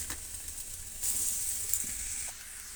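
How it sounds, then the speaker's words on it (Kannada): Boiled potatoes tipped into a hot pan of turmeric-spiced potato palya, setting off a steady close sizzle that swells louder partway through and then settles, with no talking. "ಈಗ ನಾವು ಆಲೂಗಡ್ಡೆ ಬೇಯಿಸಿರೋದನ್ನು ಸೇರಿಸೋಣ."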